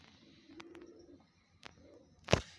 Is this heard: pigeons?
yes